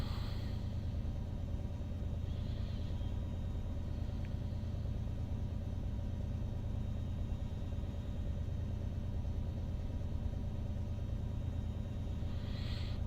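Steady low engine rumble of a train running in Train Simulator Classic, a continuous heavy drone with faint higher hiss throughout, no talk.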